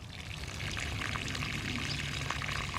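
A hose pours water onto the soil of pepper plants, a steady, fairly quiet splashing stream that swells slightly after the first half-second and runs on evenly without talk.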